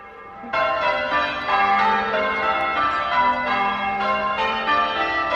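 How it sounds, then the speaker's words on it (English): Church bells ring out loudly for a wedding in overlapping peals, sustained and resonant, with no talking, heard from the Wychert Way hiking trail in England. "Oh, bells are ringing."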